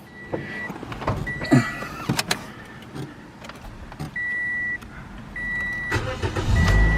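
A Toyota car starts up close by with clicks and a chime tone, then the engine revs and grows louder as it pulls away.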